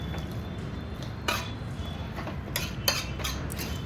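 Mutton curry being stirred in a pot, with a soft continuous scraping and a few sharp clinks of a spoon against the metal.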